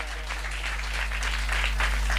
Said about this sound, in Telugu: చప్పట్లు కొడుతూ దేవుని మహిమపరచు.